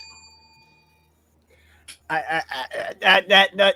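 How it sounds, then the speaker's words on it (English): A single bell strikes once with a clear ringing tone that decays over about a second, followed by someone talking. "I'm gonna take the bell out again."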